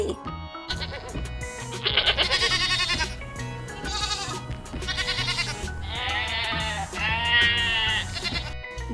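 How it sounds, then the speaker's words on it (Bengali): Young goat kids bleat loudly and repeatedly in a series of wavering cries, several overlapping calls spread across the span. "ছয় ছাগল ছানা লাফিয়ে চলে।"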